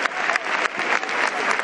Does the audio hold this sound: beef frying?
no